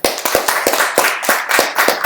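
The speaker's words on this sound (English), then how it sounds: "All right, clap it up." Studio audience at a live-streamed podcast taping clapping together, a close, steady run of sharp hand claps repeating about every quarter second, loud and alone without talk.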